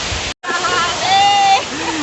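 Khandadhar waterfall in Odisha roars as a steady broadband wash of falling water, loud and close, with a brief dropout near the start and faint tonal sounds layered over it.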